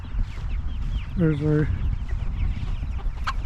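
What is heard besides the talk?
meat chickens and baby chicks clucking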